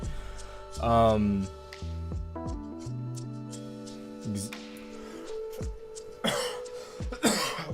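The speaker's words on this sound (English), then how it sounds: "every time I cough, holy crap, it's bad" A man clears his throat and coughs harshly a few times in close, loud bursts, mixed with a groaning voice and a background tone.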